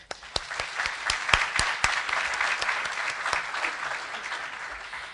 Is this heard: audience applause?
yes